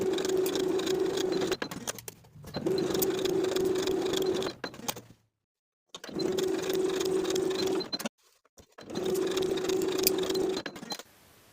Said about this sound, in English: Sew each shoulder seam at 1/2 inch and press the seams open